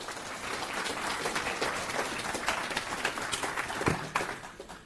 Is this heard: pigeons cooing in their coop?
no